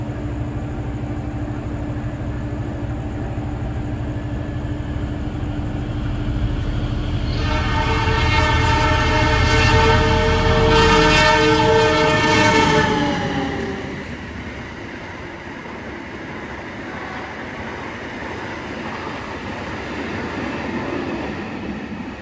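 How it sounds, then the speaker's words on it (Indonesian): An Indonesian passenger train, the Bima, sounds its horn in a long, loud blast over heavy rumbling rail noise as it departs a station, which then fades to a steady low hum of the train moving off. "persiapan berjalan langsung kereta api Bima"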